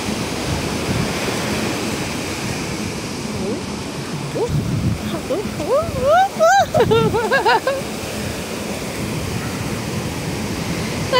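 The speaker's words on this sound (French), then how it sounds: "les vagues ont failli me mouiller." Ocean surf washes onto the beach at San Pedro, Côte d'Ivoire, a steady close roar of breaking waves with wind buffeting, and a few brief tonal, voice-like sounds rising midway.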